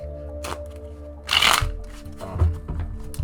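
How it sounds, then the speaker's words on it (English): Tarot cards shuffled close by in quick riffling bursts, with a louder flurry in the middle and softer rustles around it, no talking. "I'm shuffling for those right now"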